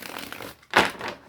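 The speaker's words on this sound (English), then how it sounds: "I don't know why I felt like I needed to shuffle again." Tarot cards shuffle with soft papery riffles, then a sharper crisp flutter snaps briefly before easing off.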